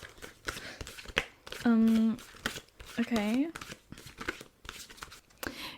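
Papery shuffling and soft taps of large oracle cards, repeated irregularly, with a voice speaking briefly in the middle.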